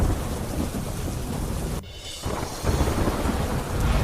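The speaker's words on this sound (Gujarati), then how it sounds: "ભરૂચ જિલ્લામાં ધોધમાર વરસાદ." Torrential monsoon rain pours down in Bharuch district, Gujarat, with thunder, a dense, loud, continuous roar that briefly dips before surging back.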